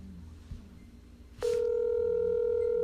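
A telephone call is placed again: faint room noise and a soft knock give way to a sudden loud, steady ringback tone that holds until the end, with no talk.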